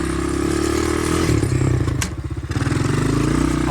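A Honda 200X ATV fitted with a swapped Chinese engine revs loudly and closely in first gear, holding a steady buzzing drone, dipping briefly, then climbing again, with some clatter and no speech.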